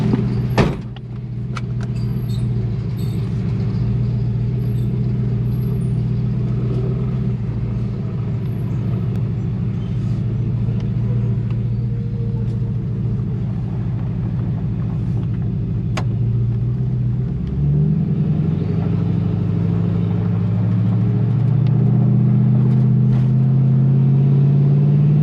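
A 2012 Ford F150 pickup with a Coyote 5.0 V8 drives on a road, its steady low engine rumble and road noise continuous throughout, swelling slightly louder near the end as it accelerates.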